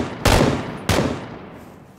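Two loud, close gunshots about half a second apart ring out in PlayerUnknown's Battlegrounds, each a sharp broadband crack whose echo trails away, with no voices over them.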